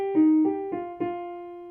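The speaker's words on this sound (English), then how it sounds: "So that entrance sounds like this on a piano." A few piano notes sound in a short rising line, each struck cleanly and ringing on, close and moderately loud with no voices.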